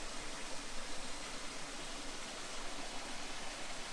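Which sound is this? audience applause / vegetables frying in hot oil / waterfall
waterfall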